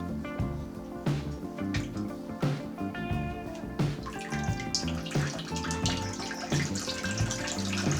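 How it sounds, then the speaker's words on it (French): Water at 20 degrees is poured into a film developing tank as a pre-soak, giving a continuous splashing, gurgling pour with irregular sloshing surges that stays fairly loud and close, without talk. "On commence par un pré-mouillage avec de l'eau à 20 degrés pour une trentaine de secondes."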